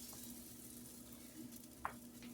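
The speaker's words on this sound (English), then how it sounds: "Put it on here. Hear it sizzle." Faint, steady sizzle of a sourdough whole wheat English muffin frying on a hot griddle, a soft crackling hiss with a low hum underneath and one small pop.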